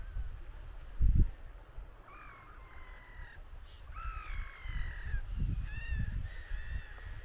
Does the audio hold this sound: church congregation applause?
no